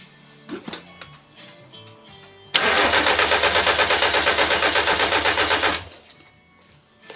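Austin Mini engine cranks and fires up, then runs with a loud, fast, chugging pulse for about three seconds before cutting out abruptly, heard close up in a quiet workshop setting.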